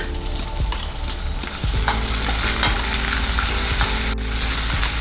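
Onions fry in a hot pan for an aloo matar and spinach saag curry, a loud, steady sizzle broken by repeated spatula scrapes and knocks against the pan.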